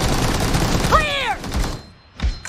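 Loud sustained M416 rifle spray in PUBG Mobile, continuous automatic fire with a short pause and a few trailing shots at the end.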